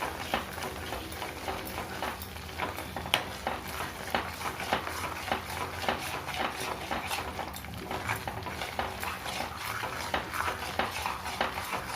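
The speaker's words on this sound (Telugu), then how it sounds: "ఇలా మొత్తం వేడి నూనె కొద్దిగా పోస్తూ ఉండాలి, కలుపుతూ ఉండాలి." Besan is stirred with hot oil in a kadai for Mysore pak: a spoon scrapes and knocks against the metal pan in a steady, quick rhythm over a faint sizzle.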